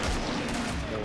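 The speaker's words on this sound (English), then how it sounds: "More grenade, more explosion." Grenade launcher fire in the Killing Floor video game comes through as a dense, continuous roar of blasts and gunfire, loud and filling the whole short burst, with no clear gaps between shots.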